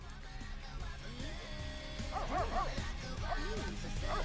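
A dog in The Sims 3 gives a series of yipping, whining barks that grow louder midway, over a steady game background hum.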